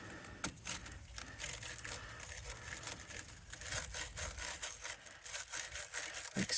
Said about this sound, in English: we're gonna clean up these terminals here, get any extra goo off of them, or corrosion